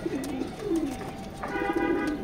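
Red checker pigeons coo in a loft, a low rolling call repeating in several close, clear phrases over steady soft background hiss.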